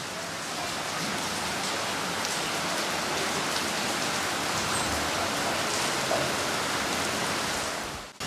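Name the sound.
rain falling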